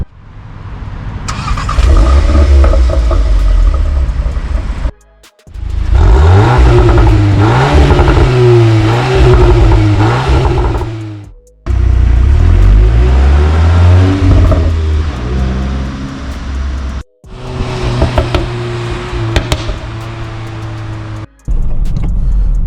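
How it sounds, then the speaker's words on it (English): A Mk8 VW Golf R with a 4-cylinder engine and six-speed manual revs hard in several loud bursts separated by brief pauses, with crackling pops and bangs on the overrun. "I've made an entire video about the pops and bangs and the sounds, the emotion start on this car"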